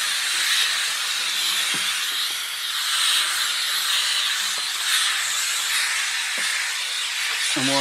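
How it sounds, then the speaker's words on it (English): A Karcher steam cleaner with a cloth-covered window attachment steams a window, a steady loud hiss that runs unbroken throughout, with faint knocks and rubbing sounds underneath. "using the attachment that came with the steam cleaner. So with a cloth on the end, just steam and rub over"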